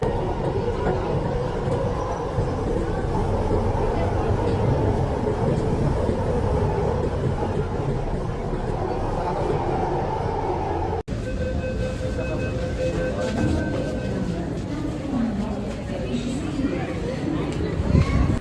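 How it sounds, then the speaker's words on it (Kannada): Inside a metro station, a continuous heavy rumble of trains and station noise, loud and unbroken, with a shift in the drone partway through and faint voices in the background. "ಮೆಟ್ರೋ ಸ್ಟೇಷನ್ ಒಳಗಡೆ ಹೋಗ್ತಿದ್ದೀವಿ"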